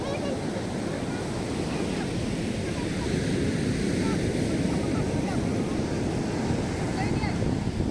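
Steady roar of surf washing over a beach at Panenwangi, broad and continuous, with wind buffeting the microphone throughout.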